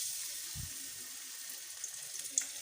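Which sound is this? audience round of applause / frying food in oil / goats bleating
frying food in oil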